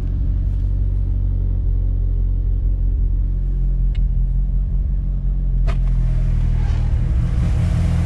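A car engine idles after an idle control solenoid replacement, a low steady rumble around 1300 RPM, close and continuous, with a few faint clicks and a slight rise in the rumble near the end.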